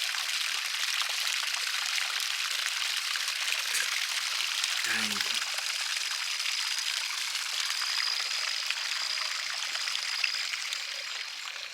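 A turtle-shaped pond feature pours water steadily into a backyard fish pond, giving a continuous close splashing rush that holds evenly throughout, with a brief low thump partway through.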